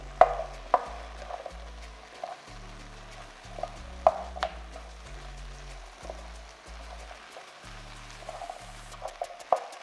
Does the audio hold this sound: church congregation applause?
no